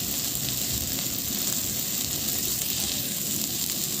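Onion paste and spices frying in a pan, a continuous close sizzling hiss with a steady, even level throughout.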